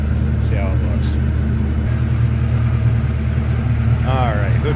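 A 1984 Ford Mustang GT with a 5.0-liter four-barrel high-output V8 idles with a steady, loud low rumble throughout, while a voice speaks briefly over the engine.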